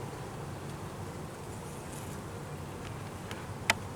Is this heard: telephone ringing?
no